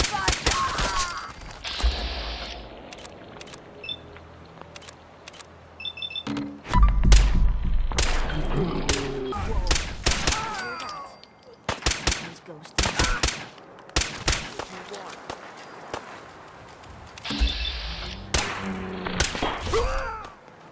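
Gunfire rattles through a Fallout 4 firefight in bursts and single loud shots, some sharp bangs and thuds up close, with a voice or two and quieter stretches between volleys.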